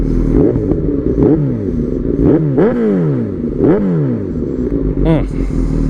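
A Suzuki GSX-S750 motorcycle with a catless Yoshimura exhaust revs while standing still, its engine note rising and falling through four or five sharp throttle blips, loud and close.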